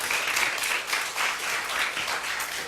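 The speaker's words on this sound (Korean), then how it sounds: "심사 평가를 해주신 선생님들께 다시 한번 감사의 박수" A school audience gives sustained applause to the teachers who judged a student business-plan presentation event, a full, continuous patter of many hands across the whole stretch.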